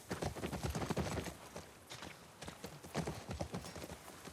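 Horse hooves clip-clop in a steady, uneven rhythm as a horse crosses ground in the video game The Last of Us Part II, close and fairly loud with no talk over them.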